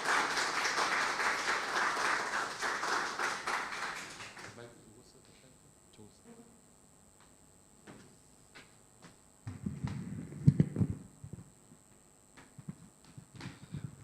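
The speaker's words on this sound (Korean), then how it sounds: "우리 나올 때 우리 힘찬 박수로 우리 환영하겠습니다." Loud, dense applause from an audience at a church lecture welcomes the speaker and fills the opening seconds, then stops abruptly. Quiet room noise follows, and then someone speaks close to the microphone.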